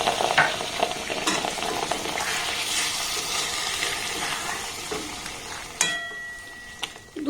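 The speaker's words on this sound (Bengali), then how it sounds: "দুধটা দিয়ে এটাকে আমি আবারও দেখুন খুব সুন্দরভাবে নাড়াচাড়া করে নিয়েছি।" Chhana being stirred with a little liquid milk in a pan for Krishnanagar-style sarpuria, soft scraping and sizzling hiss with occasional louder spoon knocks and clinks, steady and close, no talk.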